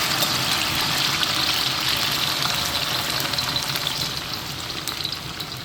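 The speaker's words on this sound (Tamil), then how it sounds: "ஓகே நல்லா எண்ணெய் நல்லா கொதிச்சுட்டுது. இப்போ நாங்கள் வெண்டைக்காய் நல்லா கொதிச்சுக்கிறோம்." Okra frying in hot oil makes a loud, dense bubbling sizzle close by that eases slightly toward the end, with no voices.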